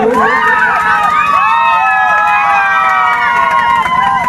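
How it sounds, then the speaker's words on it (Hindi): Crowd cheering and shouting for the winning team at a village football match prize ceremony, loud and continuous with many overlapping voices, children's shouts and excited calls close by. "जोरदार ताली से स्वागत करेंगे इस विनर टीम के लिए।"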